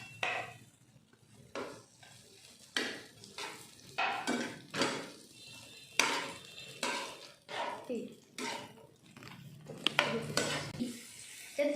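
Ingredients for an oyster mushroom and shrimp dish are sautéed in a pan, with repeated scraping and clattering strokes of a utensil over a soft sizzle, close and uneven in rhythm.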